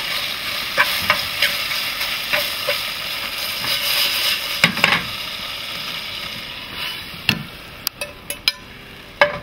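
Seafood with chili is stirred in a hot pan, a continuous sizzle broken by sharp utensil clacks and scrapes against the pan, irregular and close, with no talking.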